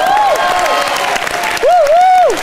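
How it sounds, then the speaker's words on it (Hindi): Studio audience applause on a Hindi comedy talk show, loud and close, with a bright music jingle sweeping over it and sounding twice. "जोरदार तालियां।"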